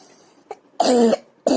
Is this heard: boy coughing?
yes